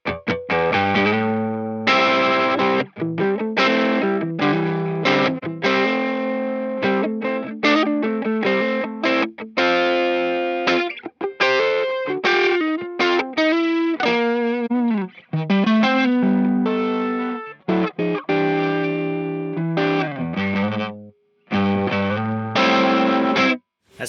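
Distorted electric guitar played through a Two Notes Torpedo Captor X and picked up by a Shure 57 mic pressed right against it; loud, driven chords and riffs ring continuously with a thick, saturated tone, alone without talk.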